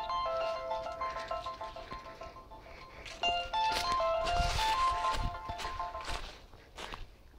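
A phone ringtone plays a repeating tonal melody amid footsteps and clattering movement, fading out near the end.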